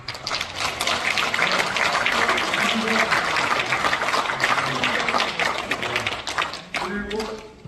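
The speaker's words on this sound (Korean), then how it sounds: "자기 이름 한번 부르면서 박수를 하고 자기에게 박수 한번" Audience applause at a Korean congratulatory speech event, a sustained wash of clapping mixed with overlapping voices and crowd chatter, thinning slightly near the end.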